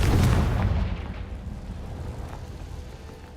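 A Confringo fire spell from the Hogwarts Legacy video game detonates in a loud, deep boom. It starts at full force and then rumbles away into a fading tail.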